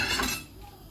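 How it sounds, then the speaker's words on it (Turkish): A plate taken from a stack of dishes in a home kitchen gives one short ceramic clink that fades quickly, faint and heard on its own. "Şöyle alalım şuradan bir tabak."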